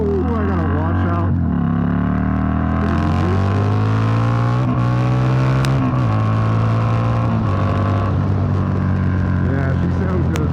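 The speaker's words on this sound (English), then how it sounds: "V-twin bikes definitely sound freaking amazing." A V-twin motorcycle engine revving and pulling through gears, loud and close, pitch rising and falling as it accelerates, with a voice briefly over it.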